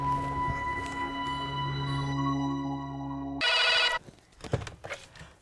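A telephone rings in a dramatized crime-series scene, sustained electronic ringing tones for about three seconds, then a short burst of harsher chirping before it cuts off into quieter rustling.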